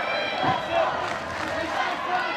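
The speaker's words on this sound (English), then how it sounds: "Some real support for him in the crowd." An arena crowd at an Australian MMA fight roars and cheers steadily in the distance, a broad, sustained wash of voices under a commentator's talk.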